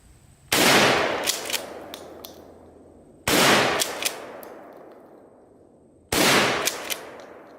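A Mossberg Model 88 12-gauge pump shotgun fires three loud, close blasts spaced about three seconds apart, each with a long echoing decay and light metallic clanks after it.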